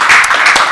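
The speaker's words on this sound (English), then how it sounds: "Clap your hands unto Jesus." A church congregation claps hands in a quick burst of dense, loud applause lasting under a second.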